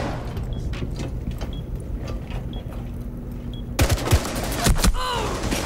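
Gunfire in the Rainbow Six Siege video game: scattered muffled shots at first, then a louder cluster of sharp rapid bursts near the end, over continuous background game noise.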